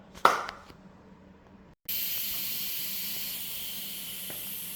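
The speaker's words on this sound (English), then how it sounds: "I just did a quick release on my pressure." An Instant Pot's pressure quick release: a short clatter, a brief silence, then a sudden loud, steady hiss of escaping steam that continues and fades only slightly.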